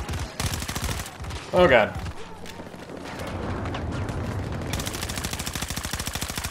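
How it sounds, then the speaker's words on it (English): Rapid automatic gunfire in the Battlefield 2042 video game, loud continuous bursts of shots with a brief pause, a voice exclaiming briefly partway through. "Why am I shooting at a corpse?"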